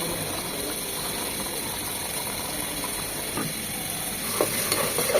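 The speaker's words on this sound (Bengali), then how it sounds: "খেয়াল রাখতে হবে মশলা কষানোর সময় মশলাটা যেন আবার নিচে লেগে না যায়" Spice paste for a beef curry sizzles and fries in a pan while a spoon scrapes and stirs it, a steady close crackle with brief scraping strokes near the end.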